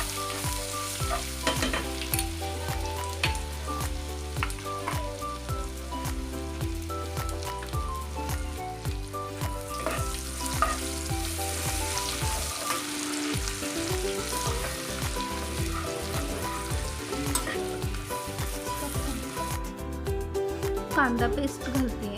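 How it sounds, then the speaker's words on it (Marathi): Onion paste fries in a pan for pav bhaji, giving a dense, continuous crackling sizzle up close with occasional stirring scrapes. Someone talks over it throughout. "छान असं ब्राऊन कलर होईपर्यंत कांदा छान असं भाजून घ्यायचा आहे"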